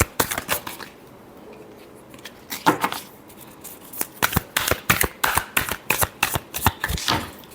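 A deck of tarot cards is shuffled by hand, a string of quick riffling and tapping bursts, close and clear, speeding into a steady rhythmic run near the end.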